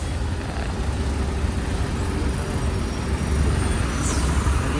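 Steady, dense road traffic rumbles on a busy road in Valsad, Gujarat, a constant low roar of engines that swells slightly near the end, with no voices heard.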